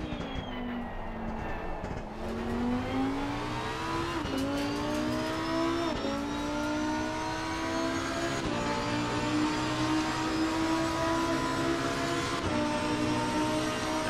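A Lamborghini Huracan EVO GT3 race car in Assetto Corsa Competizione at Paul Ricard, heard from inside the cockpit, its engine droning loudly and rising through the gears with several sharp shift drops, sustained and alone.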